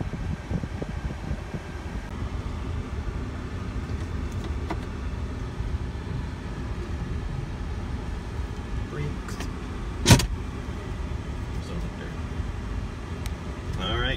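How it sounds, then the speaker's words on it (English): A car drives slowly around a farm campground toward the main gate, its steady engine and road rumble continuous and close throughout, with a brief sharp knock near the end. "So I'm going to drive around."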